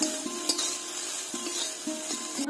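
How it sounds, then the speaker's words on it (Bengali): Small fish fry in mustard oil while being stirred in a pan, giving a steady close sizzle broken by a few scraping clicks of the spoon. "মাছটা তো স্বাদ মতো লবণ দিয়ে দিব আর করে সরষের তেল দিব একটু নাড়াচাড়া করে নিব"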